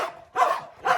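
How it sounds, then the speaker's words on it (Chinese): An Old English Sheepdog at a stray dog home barks three times in quick succession, close and fairly loud, with short gaps between the barks. "就是咱们这只古牧"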